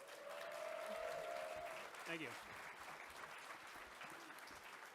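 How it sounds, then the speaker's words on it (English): Audience applause at a comedy panel at PAX Prime 2015, steady clapping from a crowd that fills most of the clip, with a brief spoken thanks partway through. "Please applaud for them."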